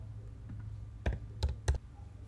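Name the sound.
typing on a computer keyboard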